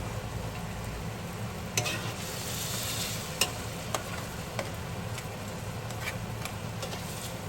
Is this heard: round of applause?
no